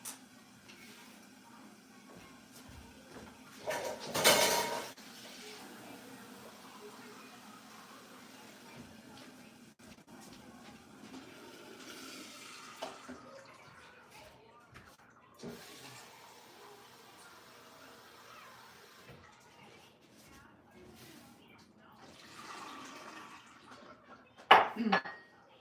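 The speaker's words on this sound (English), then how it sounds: "I forgot that I need to refill the water." Pots and dishes clatter in a home kitchen while sticky rice cake steams and water is refilled, with two louder bursts of clanking standing out over a low steady background.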